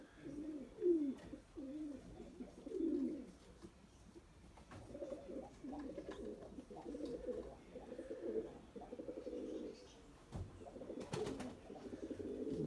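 Pigeons coo softly in an outdoor loft, a series of low, rolling calls repeating at irregular intervals, fairly faint against light background noise with a few brief clicks and knocks.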